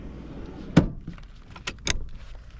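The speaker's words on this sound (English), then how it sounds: "One nice thing about this car is we can move the seats forward." A front seat in a 2022 Subaru Ascent is slid forward, giving a few sharp clicks and clunks close by, spaced out over a couple of seconds, with no talking.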